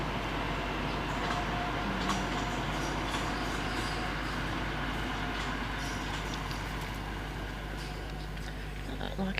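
A train rumbles past at a distance beside a croquet lawn during a women's world championship golf croquet match, a low, steady rolling noise that holds for the whole stretch behind light outdoor ambience.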